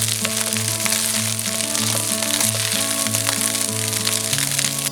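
Spicy chicken and veggie fried rice with spring onion is stir-fried in a wok over high flame, giving a steady crackling sizzle under continuous background music.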